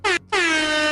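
An air horn sound effect gives two loud, bright blasts: a short toot, a brief gap, then a longer sustained blare, with nothing else heard.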